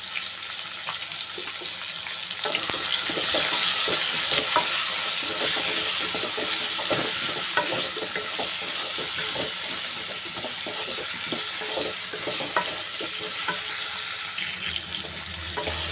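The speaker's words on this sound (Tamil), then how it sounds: "நல்லா மிக்ஸ் பண்ணி விட்டுட்டு சிம்லேயே வச்சு ஒரு பிளேட் போட்டு மூடிடலாம்" A spoon stirs raw mango pachadi with salt and turmeric in a pan, with continuous scraping and clinking strokes over a soft sizzle that runs steadily and close by throughout.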